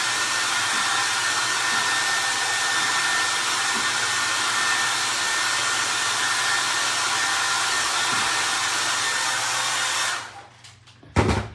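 A hair dryer blows steadily up close to dry glue on a DIY vintage shoe stretcher project, a loud continuous whir that runs for about ten seconds before switching off with a few clicks.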